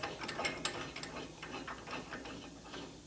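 Ratchet wrench tightening a bolt through a leaf spring bushing on a Jeep CJ, a run of quick close clicks repeating steadily for a few seconds with no talking.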